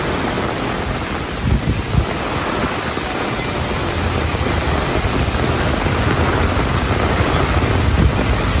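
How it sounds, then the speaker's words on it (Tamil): Heavy rain pours steadily over Cuddalore, a dense, loud, unbroken roar of water hitting surfaces with a low rumbling undertone, no voices. "கடலூர் மாவட்டத்தின் பல்வேறு பகுதிகளில் கனமழை பெய்து வருகிறது."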